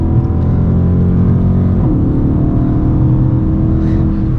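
A 2019 Dodge Charger R/T engine pulls hard after a downshift, loud and close from inside the car, a steady rising drone with a dense harmonic growl and no break across the whole stretch.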